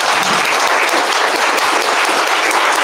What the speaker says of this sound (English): let's all give Jeff VanderMeer a round of applause